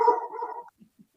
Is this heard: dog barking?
yes